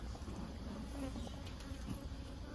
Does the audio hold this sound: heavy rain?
no